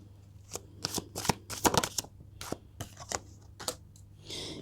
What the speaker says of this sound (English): that came up as I did the first shuffle